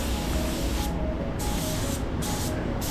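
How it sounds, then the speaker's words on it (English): A spray gun lays down metallic black Glasurit 100 line paint in a loud continuous hiss, with brief pauses in the spray as the trigger is eased off and pressed again. "So like I said, I'm just spraying it a little bit slower."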